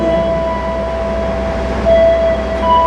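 The Kamandaka passenger train rolls along its rails in a steady, loud rumble heard from inside a carriage, with a faint sustained tone running above the low drone and no voices.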